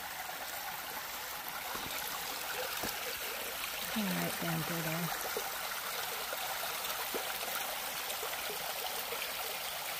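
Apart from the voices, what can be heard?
small stream of clear water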